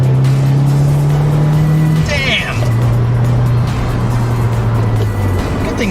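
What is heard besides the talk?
Subaru WRX Limited with modified exhaust accelerating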